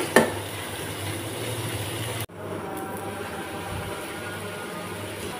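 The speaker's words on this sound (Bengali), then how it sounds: "তো সেই জন্য আমি মশলাটা একটুক্ষণ কষিয়ে নিচ্ছি" Spice paste for a kachki fish curry sizzles steadily as it is stir-fried in a pan, a continuous even frying hiss broken only by one brief dip midway.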